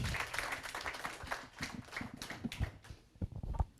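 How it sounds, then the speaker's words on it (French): Audience applause at a school eloquence contest, a steady patter of clapping with scattered sharper claps, fairly close and even in loudness throughout. "On l'encourage, on applaudit."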